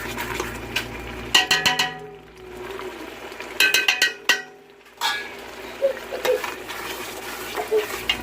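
A spoon stirs a peanut butter mixture in a pot for a Guinea pepper crab dish, with intermittent close metallic clinks and scrapes against the pot and short quiet pauses between bursts.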